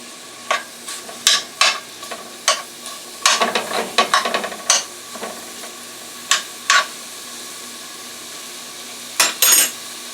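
Peppers sizzle in olive oil in a hot frying pan while a utensil repeatedly scrapes and clinks against it, stirring in irregular bursts.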